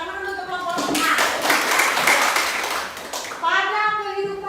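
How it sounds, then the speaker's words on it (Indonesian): Schoolchildren in a classroom clapping for group A, a burst of many small hands applauding together between a teacher's spoken remarks. "Tepuk tangan dulu untuk kelompok A."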